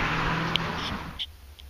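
Steady roar of traffic passing close by, with a low rumble and hiss that fades partway through, plus a couple of brief higher squeaks.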